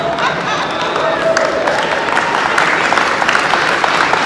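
Audience applause at a construction topping-out ceremony, a steady dense wash of many hands clapping outdoors, loud and continuous throughout, with faint crowd voices underneath.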